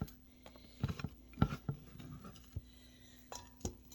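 Several sharp knife chops land on a cutting board at irregular intervals as vegetables are cut for coleslaw, close and fairly quiet, with small clinks between them.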